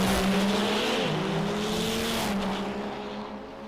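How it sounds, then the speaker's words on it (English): A purpose-built race truck roars down an eighth-mile drag strip, its loud, steady engine note rising and then easing slightly before fading toward the end, with no voices. "You can see the purpose-built race truck staging up as we get incrementally faster down the 8th mile this afternoon at the Yellowstone Drag"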